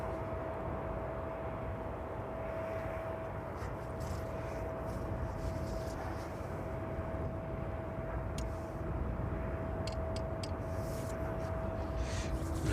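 A Boeing 757 of the DHL fleet at East Midlands Airport in the evening produces a steady broadband engine roar with a constant whine, heard from a distance and sustained without speech.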